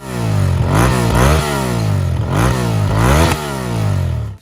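A Honda VTR 1000 motorcycle from 2005 with a loud, deep aftermarket exhaust revs repeatedly, each throttle blip rising and falling in a heavy rumble, close up and without talk.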